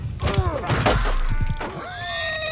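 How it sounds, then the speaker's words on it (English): A horse neighs loudly in the Mount and Blade II: Bannerlord video game during a battle, a rising and falling whinny heard close amid clattering combat noise and a faint voice. "Okay, managed to hit a horse."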